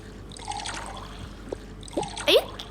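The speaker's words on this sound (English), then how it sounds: "Pour me some chocolate milk." Chocolate milk is poured into a glass in short, gurgling splashes of liquid, growing louder and fuller toward the end, heard close up over a faint background hum.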